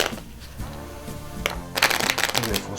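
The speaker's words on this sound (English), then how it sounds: "a riffle shuffle," Playing cards are riffle shuffled close up, a soft flutter building into a rapid, crisp burst of cards slapping together.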